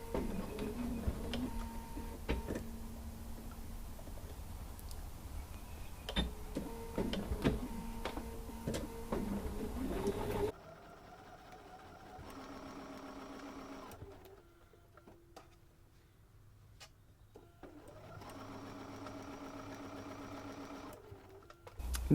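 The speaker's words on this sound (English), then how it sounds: "Just going to stitch right up to that dot." A sewing machine stitches a seam with back stitching in loud, steady runs of rapid mechanical ticking. The stitching breaks off, then resumes in shorter, quieter bursts separated by pauses.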